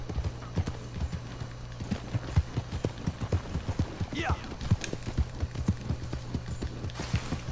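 Horse hooves in the video game Red Dead Redemption 2 clip-clop in a steady rhythmic gait, close and clear, over a low constant hum, with a brief whinny midway.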